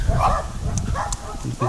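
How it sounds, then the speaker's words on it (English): Several dogs barking outdoors in a residential neighbourhood, a few short bursts over a noisy street background, fairly close and moderately loud. "where those dogs are barking"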